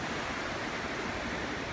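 Choppy sea waves wash onto a beach in a continuous, fairly faint hiss of surf with no distinct breaks and no voices.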